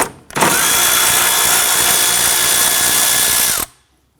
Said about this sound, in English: Remove this lower 10mm bolt here.